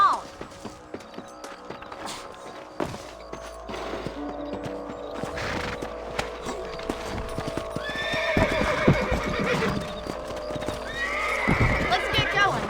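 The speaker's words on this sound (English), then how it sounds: "Let's get back on the horses and see what else is going on." Hooves clip-clop in a steady trot while horses whinny and harness creaks; voices murmur in the background. Horses in the video game Red Dead Redemption.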